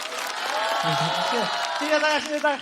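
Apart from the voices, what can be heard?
audience applause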